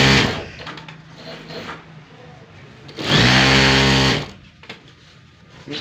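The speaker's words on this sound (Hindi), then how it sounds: "एल सिलाई लग रही है, ये बंद हो जाएगी।" Sewing machine running in bursts while stitching an L-shaped seam around the corner of a bedsheet, with a loud sustained burst near the middle and shorter motor runs before and after.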